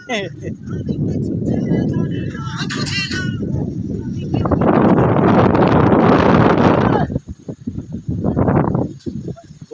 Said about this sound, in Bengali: খুব সুন্দর হাওয়া মেঘটা পুরো কালো আসছে